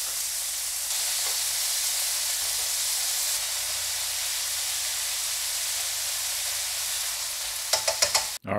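Meat for yakisoba, seasoned with black pepper, frying in a pan, a steady broadband sizzle running throughout, with a few sharp clatters of stirring near the end.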